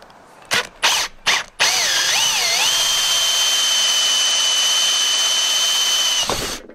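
A power drill boring into a spare connector pipe for a DIY camper van solar shower: a few short bursts, then one loud steady whine that wavers briefly before holding and cutting off.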